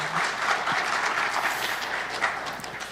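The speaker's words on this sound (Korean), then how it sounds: "박수 한번 보내주시면 고맙겠습니다." Church congregation applauding during a pastor's retirement worship service, a steady dense wash of many hands clapping at moderate level throughout, with no voices over it.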